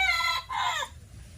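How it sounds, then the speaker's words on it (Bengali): A rooster crows close by in two strained, raspy bursts, then falls quiet. "আর আমাদের ঘরে মোরগ বন্ধুরা আমি যখনই ভিডিও করতে আসবো তখনই তার চিৎকার আরম্ভ হয়ে যাবে"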